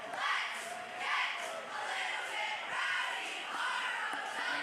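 High school football student section crowd, led by a cheer squad, cheering and shouting in sustained rolling waves, a dense wash of many voices that swells and eases with no break.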